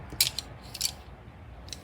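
A few small clicks and rattles from a set of Sue Color brand colored pencils being handled, sharp light taps clustered in short bursts, close and fairly quiet with no talking.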